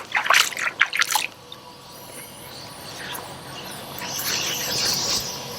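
A few quick splashes and drips of water hit an inflatable kayak up close, followed by softer trickling and faint fizzing.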